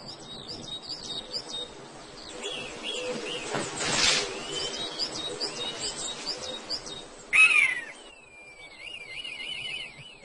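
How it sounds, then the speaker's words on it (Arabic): A red kite, a bird of prey, gives high thin whistling calls, one rising-and-falling wail near the end over a backdrop of other birds chirping and twittering at moderate distance. "طائر آخر من الطيور الجارحة يقوم بالعودة إلى موقعه، وهو الشوحة الأحمر"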